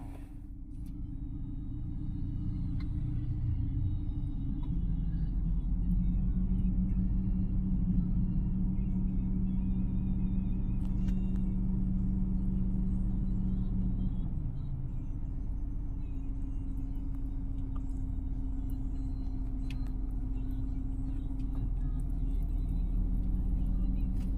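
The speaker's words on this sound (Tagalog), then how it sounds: "Pinapainit ko yung sasakyan." A parked car idles as it warms up, a steady low rumble that runs the whole time, its pitch shifting slightly partway through, with no clear talk.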